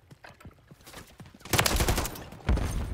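Call of Duty MW3 gunfire in a multiplayer match: faint scattered shots and footstep-like taps, then a louder burst of rapid automatic fire and a heavy blast near the end, with no talk over it.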